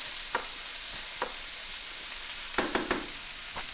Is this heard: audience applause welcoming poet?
no